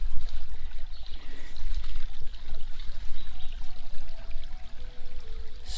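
Water runs through a gold prospecting sluice box outdoors, a constant splashing, trickling flow with low rumbling underneath, steady and fairly close throughout.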